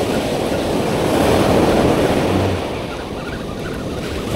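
Rough sea waves wash continuously onto a beach during surfcasting, making a loud, steady rushing surf mixed with wind noise that swells and then eases slightly.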